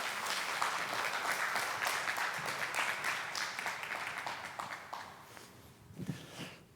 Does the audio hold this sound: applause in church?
yes